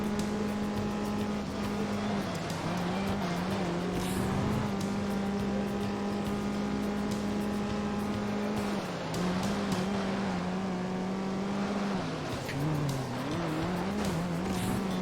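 An Opel Corsa racing in the game Juiced, a loud steady engine drone with shifting pitch and tire squeal through corners, continuous throughout with no talking.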